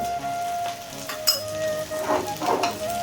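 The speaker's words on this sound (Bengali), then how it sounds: "আমি এখন যে ভাজা মশলাটা করে রেখেছিলাম সেটা দিয়ে দেব" Dal bubbling in a wok as the roasted spice mix goes in, soft sizzling with spoon stirring and light clinks against the metal, a steady faint hum underneath.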